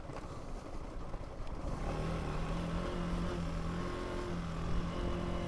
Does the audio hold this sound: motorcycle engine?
yes